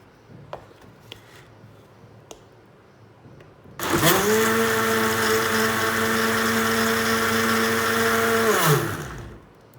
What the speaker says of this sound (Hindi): और अभी मैंने इसको करना है मज़ेदार सा ग्राइंड।